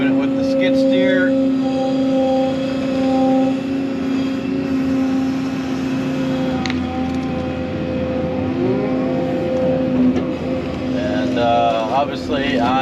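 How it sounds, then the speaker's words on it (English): A skid steer moving dirt at a pool dig drones with a steady tonal engine hum, revving at times, while people talk nearby. "Jeff's still moving it with the skid steer."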